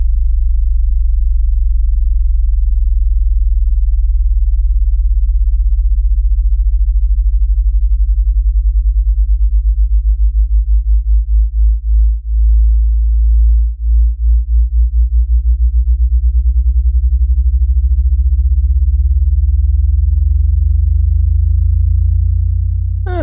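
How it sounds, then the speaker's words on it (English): A steady single sine tone layered with a sweeping sub-bass frequency, the two beating against each other in a slow then quickening wobble that pulses and thins where they nearly cancel, loud and continuous with no voices. "a single frequency and a sweeping frequency, causing chaos"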